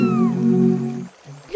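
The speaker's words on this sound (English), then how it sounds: "Look, Laith, there's a kitten stuck on the rock in the river" A kitten stuck on a rock in a river gives a single drawn-out meow, clear and close, trailing off into quiet with a brief sound at the end.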